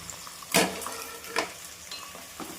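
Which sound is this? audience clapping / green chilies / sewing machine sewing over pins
green chilies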